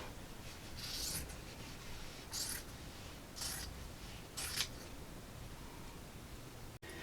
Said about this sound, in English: And now I'm just going to come back and cut the 2 folds.